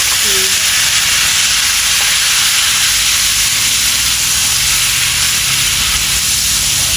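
Water poured into a hot pan of spices gives a loud, continuous hiss and sizzle that holds steady, close and alone, throughout.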